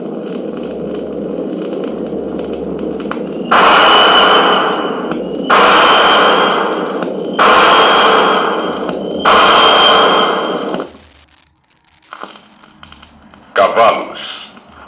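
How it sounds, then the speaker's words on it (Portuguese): A space battle sound effect played from a cinema sound-effects vinyl record: a low electronic hum gives way to four loud, sustained synthetic blasts in a repeating rhythm, then quieter scattered crackles and a final short burst. "Batalha espacial."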